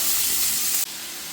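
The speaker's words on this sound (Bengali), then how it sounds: "এবার আলুগুলোকে আমি দিয়ে দেবো, আলুগুলোকে আমি ভেজে নেবো নুন হলুদ দিয়ে" Potatoes frying in hot oil with salt and turmeric give a close, dense sizzling hiss that holds steady, then drops a little and carries on.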